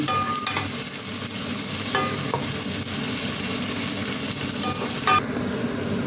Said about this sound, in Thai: เวลาผัดพริกไม่ต้องใส่น้ำมันเยอะ ใส่น้ำมันเล็กไม่ใช่น้อย พอได้ผัดพริกหอม